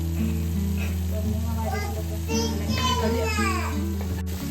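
Beef liver frying in a pan with banana flower, a steady loud sizzle throughout, with a voice and other talk over it.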